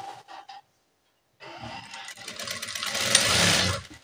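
A sewing machine stitching a nurse uniform pant, two quick short bursts, a pause, then a long steady run of whirring stitches that grows louder toward the end.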